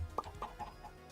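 A Minecraft chicken gives two sharp clucks followed by a couple of softer ones, close and distinct against a quiet game background.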